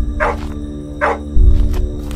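A dog in the horror game Blood Field barks twice in quick succession, close and clear over a constant low ambient hum, followed by a dull thud and a fainter third yip.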